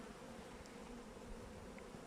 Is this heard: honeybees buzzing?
yes